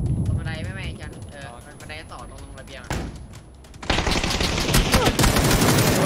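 Mini14 rifle fire in PUBG, sharp gunshots cracking amid excited talk, then a louder burst of rapid shots and noisy gunfire dominating the final couple of seconds.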